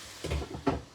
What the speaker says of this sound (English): Lid goes back on.